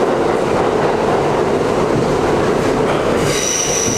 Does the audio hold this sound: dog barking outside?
no